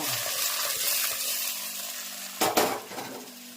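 Spices, turmeric, chili, coriander-cumin powder and salt, crackle and sizzle in hot oil as tempering for a ridge gourd curry, with a steady frying hiss, then a metal utensil clatters against the pan near the end.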